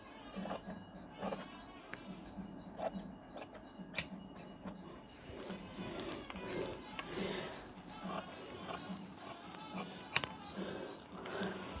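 Scissors cutting blouse fabric at a tailor's table: soft, intermittent snips and rustles with a couple of sharp metallic clicks, fairly quiet and close, no speech.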